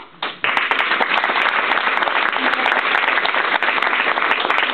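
An audience applauds young performers after a stage play, dense sustained clapping that swells in quickly and fills the room, close and loud.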